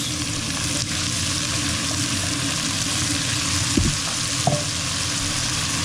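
Carrots and leeks sizzle in a pan for braised beef short ribs, a steady, loud, close frying hiss with a couple of brief stirring knocks and no talking.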